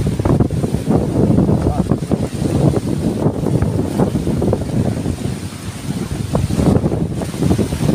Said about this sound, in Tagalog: Ulan, saka napakalakas ng hangin.